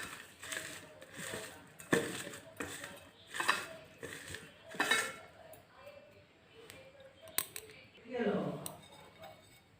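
Chopped onion, coriander leaves and salt get mixed by hand in a bowl, making soft rhythmic scraping and clattering strokes, close and quiet, while someone talks over it.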